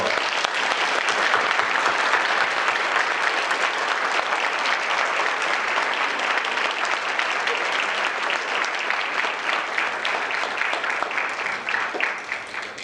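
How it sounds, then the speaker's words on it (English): Sustained applause from a ceremony audience honoring students at a recognition event, dense steady clapping that holds for the whole stretch and tapers slightly at the end. "Please give all of our students a round of applause."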